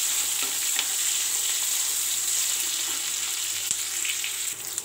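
Onions frying in a pan for a restaurant-style aloo masala give a steady, loud hiss of sizzling oil throughout, with occasional faint stirring clicks and no voices.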